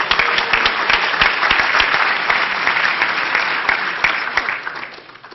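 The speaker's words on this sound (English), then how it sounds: "Round of applause" Steady, dense applause from an audience at a closing-remarks prize ceremony, loud and continuous before tapering off in the last second.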